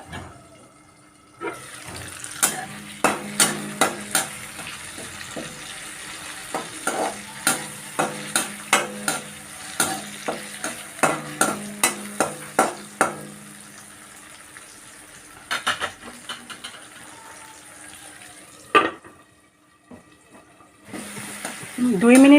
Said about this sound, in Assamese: অকণমান মিডিয়াম চাইজৰ জুইত মই বিলাহীখিনি ভাজি লৈছোঁ।